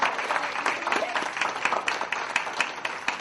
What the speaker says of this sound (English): please give our students a round of applause.